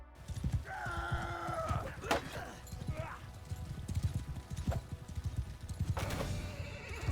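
Hoofbeats clip-clop steadily from a horse being ridden in a video game, with a couple of whinnies and neighs breaking through, all under a fairly loud busy background.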